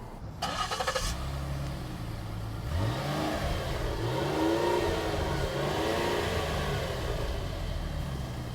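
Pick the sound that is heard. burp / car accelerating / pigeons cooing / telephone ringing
car accelerating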